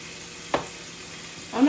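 A seasoned steak frying in a pan gives a soft, steady sizzle, with two brief louder clatters of the meat or pan, close and unaccompanied by talk.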